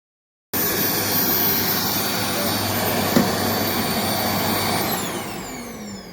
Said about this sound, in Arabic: وده فيديو توضيحي لكيفية عمل المكنسة